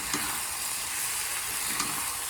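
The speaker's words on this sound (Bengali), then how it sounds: "আর এই সাইডে মশলাটা ভালো করে কষিয়ে নিচ্ছি" Spices frying in oil in a wok (kadai) as they are stirred and cooked down for a jackfruit curry, a close steady sizzle with a few soft scraping stir strokes, no talk.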